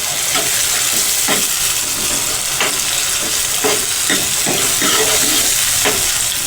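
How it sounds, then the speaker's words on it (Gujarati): Chopped tomatoes are stirred into a frying eggplant curry, with a steady loud sizzle running throughout and scattered spoon scrapes and knocks against the pan. "બીજું આપણા રીંગણા સડી ગયા છે તો આપણે તેમાં સમારેલા ટમેટા નાખી દઈશું। આપણે તેને હલાવીને મિક્સ કરી લઈશું।"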